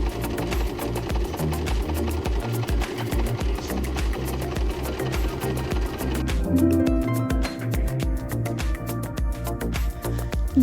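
A Brother 1034D serger overlocker stitches through a scrap of fabric, giving a rapid, rhythmic mechanical chatter that stays loud and close throughout, shifting slightly in tone partway through.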